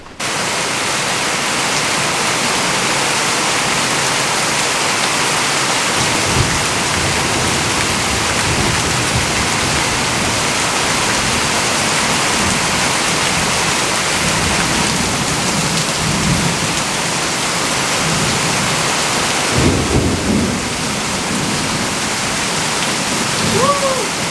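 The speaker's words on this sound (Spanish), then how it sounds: "Hoy está el día de lluvia." Steady heavy rain pours down throughout, a dense close hiss with low rumbles of thunder now and then, and no voices.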